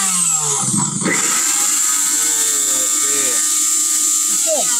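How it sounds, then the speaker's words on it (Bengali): A Havells blender starts with a loud whirring motor, a high steady whine, and short rising bursts of pulse operation, nearby and dominant, with a voice briefly heard at the start. "এটা হচ্ছে পালসে চলতেছে"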